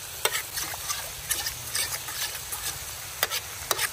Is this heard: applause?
no